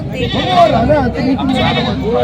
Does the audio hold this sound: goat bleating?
yes